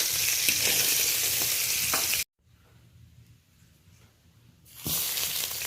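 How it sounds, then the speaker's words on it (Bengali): Crab claws frying in a pan of hot oil, a loud, steady, close sizzle that cuts out to near silence for a couple of seconds, then returns just as strongly. "দাঁড়াগুলো ভেজে নিলাম।"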